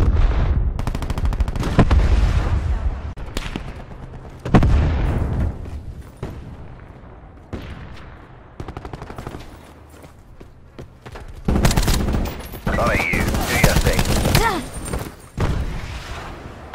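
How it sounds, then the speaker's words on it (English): A frag grenade explosion and gunfire in the video game Black Ops 4, with loud bursts of shots and booming blasts in dense, uneven waves throughout. "Throwing frag grenade."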